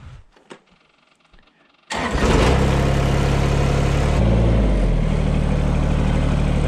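A tractor's 3-point hitch is raised. After near silence with a few faint knocks, a loud, steady engine and hydraulic drone kicks in and holds, close by, with a slight shift in pitch partway through.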